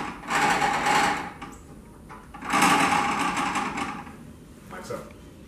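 A simple period-style wooden lathe being run, giving rough whirring, rasping bursts that rise and stop in three separate spells, loud and close.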